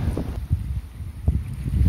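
Strong storm wind roars steadily on a shore, buffeting the microphone with low gusts and occasional louder rushes, no voices present.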